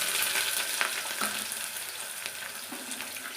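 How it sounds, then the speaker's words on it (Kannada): Sliced onions fry in hot oil in a home kitchen pan for kushka, a dense bright sizzle that stays steady and close throughout, with a few faint stirring scrapes and no talking. "ಇದು ಎಣ್ಣೆಲಿ ಫ್ರೈ ಆಗಲಿ ಇದಾದಮೇಲೆ ಈರುಳ್ಳಿ ಹಾಕೋಣ"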